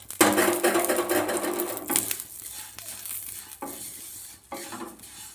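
Semai vermicelli frying in ghee in a pan while being stirred, a loud close sizzle with scraping strokes of the spoon that fade into quieter stirring and occasional clinks.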